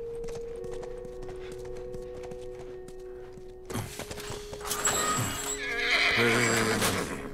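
A horse in The Last of Us video game lets out a loud, shaky whinny with snorting, following quiet ambient game sound with soft clip-clop of hooves; the neigh rises and wavers for several seconds near the listener.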